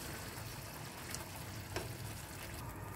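Cauliflower stirred in a frying pan gives a steady low sizzle with a couple of faint scraping clicks, close and continuous.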